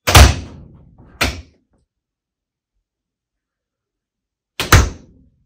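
Glass door of a four-sided refrigerated merchandiser cooler with rotating shelves, heard as three sharp thuds: two close together, then silence, then a final solid closing knock.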